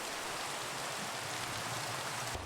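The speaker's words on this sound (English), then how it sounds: "And now it's raining." Steady rain falling in the Minecraft video game, a continuous dense hiss of drops with no voices, holding evenly for the whole stretch before a slight change near the end.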